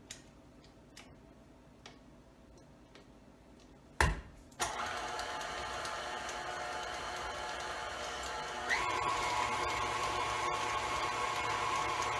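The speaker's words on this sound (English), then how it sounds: "Now we're whipping." An electric hand mixer whips cookie dough for chipless cookies, starting with a sharp jolt and then running as a steady, loud whir that rises in pitch partway through, with faint ticking before it starts.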